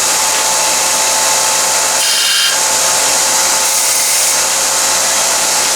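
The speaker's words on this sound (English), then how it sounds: "take your 1/8 inch brazing rod or brass rod, whatever you have, and I always start by squaring up the end and chamfering it" Brass rod 1/8 inch being squared and chamfered on its end, giving a steady loud hissing, grinding drone that runs throughout with a brief dip and shift in the middle.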